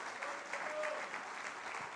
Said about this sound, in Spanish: Dale un fuerte aplauso al Señor entonces